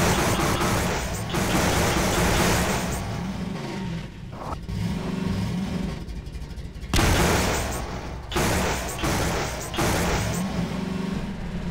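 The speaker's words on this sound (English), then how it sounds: "We used the tau cannon on them." Tau cannon fire against Combine soldiers in Half-Life 2, a series of loud sharp energy blasts and booms over engine-like rumble, repeated bursts with brief gaps between them.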